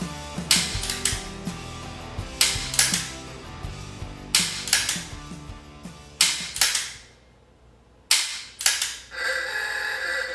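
Carbine rifle fired at a target during a SWAT-style shooting drill, with around eight sharp reports spaced unevenly, each followed by a short ringing decay and some mechanical clicks, loud and close.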